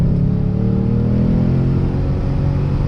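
A Lexus RC F sets off in gear, its engine rumbling low and steady as it accelerates, loud and close throughout with no talk.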